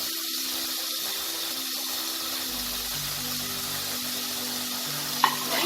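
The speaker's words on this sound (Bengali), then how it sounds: "এটাকেও আমি 30 সেকেন্ডের মতো নাড়াচাড়া করব।" Spring onion, carrot, capsicum and cabbage stir-fry in a pan for Indo-Chinese chicken Manchow soup, giving an even, continuous close sizzle with soft stirring movements and a single sharp clink near the end.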